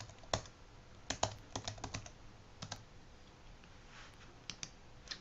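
A password being typed on a Mac computer keyboard: quiet, close key clicks in short irregular bursts with pauses between, faint overall against a low background hum.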